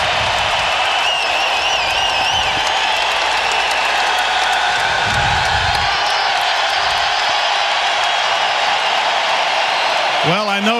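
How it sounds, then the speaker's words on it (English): Hockey arena crowd during a 2008 Game 7 playoff between the Calgary Flames and San Jose Sharks cheers and salutes Jeremy Roenick in a loud, sustained roar with scattered whoops. An announcer speaks over the noise. "There's Jeremy Roenick being saluted by this crowd."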